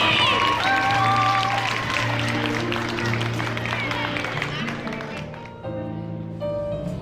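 Audience applause at a graduation ceremony: a dense, steady wash of clapping from a crowd that runs the whole stretch, with music and voices mixed in underneath and the applause slowly thinning near the end.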